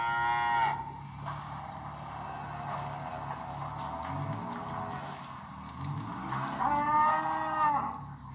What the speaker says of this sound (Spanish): ¡Es la vaca!